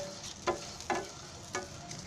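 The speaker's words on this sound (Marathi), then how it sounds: "कांदा पण चांगला भाजेपर्यंत आहे ना हलवतच राहायचं आहे, कारण बिना तेलाचं करायचं आहे ना म्हणून" Onion dry-roasting in a pan without oil while being stirred, a faint sizzle broken by three quick scraping strokes, close and otherwise quiet.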